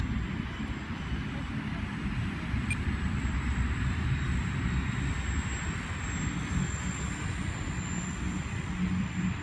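A Taft Scorpion jet aircraft lands, heard as a steady, loud engine roar and low rumble that holds at an even level for the whole stretch, with no break or fade.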